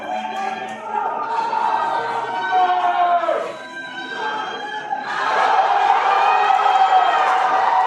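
A powerlifting meet crowd cheers and shouts loudly and steadily behind a lifter attempting a nearly 700-pound lift, swelling again toward the end, with voices mixed throughout.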